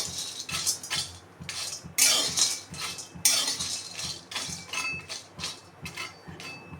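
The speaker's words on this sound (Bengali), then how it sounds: "একসাথে একটু নেড়ে চেড়ে গরম করে নেব।" Whole spices, including cloves, are stirred and dry-roasted in a pan, giving irregular scraping clinks and rattles of utensil on metal, close and moderately loud with no talking.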